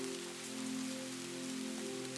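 Steady rain pours onto surfaces in the woods, a dense, even hiss with no pauses, accompanied by a low, constant tonal hum.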